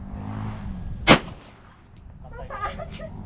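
At a shooting range, a single loud, sharp rifle shot cracks out close by and is followed by a brief echoing decay, with low background rumble and faint activity afterward.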